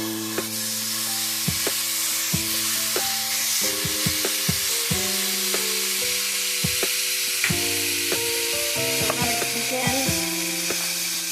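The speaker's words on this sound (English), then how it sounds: "To a heated pan on medium heat, I'm going to add in my ground beef." Ground beef sizzles in a heated pan on medium heat: a steady, soft frying hiss runs throughout beneath a louder melodic backing tune.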